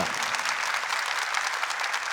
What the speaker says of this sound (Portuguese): Vamos aplaudir os irmãos que estão aí de camiseta da Bahia.